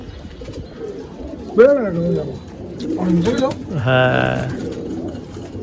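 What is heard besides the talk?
pigeons cooing in a loft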